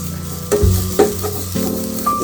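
Maggi noodles with cheese sizzle in a pan while being stirred, several distinct scraping strokes of the spoon standing out over a soft frying hiss, with no talking.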